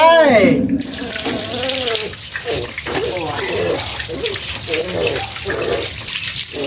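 Water running steadily from a tap while an animal is being bathed, a constant close splashing wash that lasts throughout, with someone talking over it at the start.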